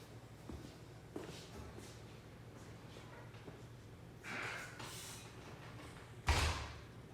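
A door opens as a trainer steps outside during indoor dog stay training, heard as a soft thump and scrape near the middle, then a sharper, louder knock or latch sound near the end, over quiet room noise.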